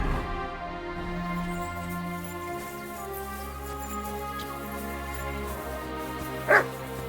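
A dog barks briefly in Kingdom Come: Deliverance II, a single short bark late in the clip over a continuous background of music.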